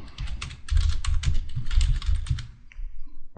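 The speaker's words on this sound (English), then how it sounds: "Here I can type whatever I want." Someone types on a computer keyboard in quick, uneven runs of close, crisp keystrokes, with a brief pause near the end before a few more taps.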